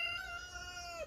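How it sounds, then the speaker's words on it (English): A rooster crows nearby in a drawn-out, strained cry that holds steady and then drops at the end, loud and alone without talk. "That's Elvis the rooster."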